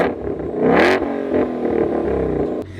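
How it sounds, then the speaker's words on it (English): A car with what seems to be a custom exhaust revs hard on a private road, a loud rising vroom peaking early, then settling into a rumbling, throaty drone before cutting off abruptly. "from that sound, it sounds like it has a custom exhaust"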